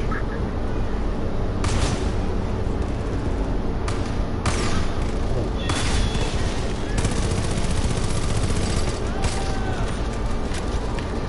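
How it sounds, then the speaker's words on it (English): Shotgun blasts in the video game Far Cry 5 during a jail breakout, several sharp booming shots spaced a second or two apart over a dense, steady game background of noise and action. "That's shotgun."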